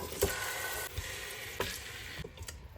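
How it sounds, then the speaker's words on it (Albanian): Chicken pieces sizzle and crackle in butter in a hot pan, with a few sharp pops and stirring scrapes breaking up the steady hiss. "Skuqim për disa minuta derisa të na bëhet një faqe artë tek lëkura e pulës."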